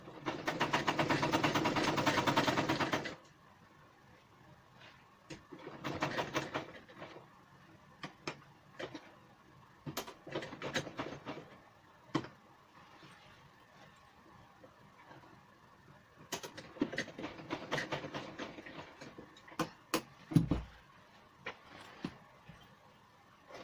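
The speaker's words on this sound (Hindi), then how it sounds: "इसको यहीं तक हमें सिलाई करनी है और इसको सिलाई करके इसको पक्का कर लेंगे" Sewing machine stitching through a rexine bag panel, a dense whirring burst at the start, then quieter intermittent clicks and short stitching runs with handling knocks, close and fairly faint.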